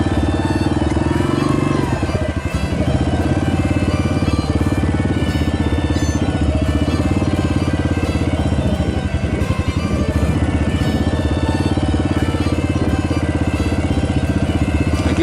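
A motorcycle rolling along at low speed under clutch control, its engine running steadily and close by with small throttle changes throughout, no voices.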